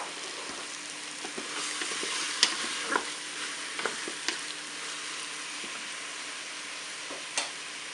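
Apples and white sausages (boudins blancs) frying in a Cookeo multicooker, a steady soft sizzle with occasional stirring scrapes and clicks, close and alone without talk.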